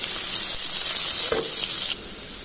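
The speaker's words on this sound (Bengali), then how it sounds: "এবার পেঁয়াজগুলোকে আমি হালকা ভেজে নেব।" Onions, about a cup, frying lightly in a pan, giving a steady broadband sizzle that holds evenly and then drops a little quieter near the end, with no voices.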